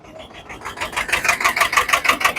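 A Swaraj 744 double-clutch tractor's diesel engine chugging in a fast, even rhythm at a tractor market, close and fairly loud, building slightly in intensity.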